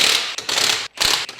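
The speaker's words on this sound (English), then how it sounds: "first thing we're gonna do is take off these main bolts that hold the strut to the hub" Ratchet clicking rapidly in two bursts while loosening the strut-to-hub bolts on a 2016-2020 Kia Sorento during a lift kit install, close and loud with a brief pause between runs.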